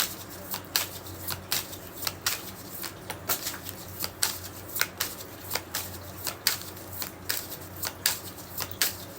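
A deck of tarot cards is shuffled by hand, giving a string of crisp riffling snaps in a loose, uneven rhythm, close up and with no talking.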